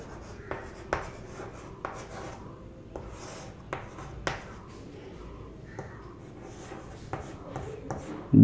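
Chalk or marker taps and scratches on a board in a physics lesson on lenses, a series of sharp irregular strokes over quiet room tone.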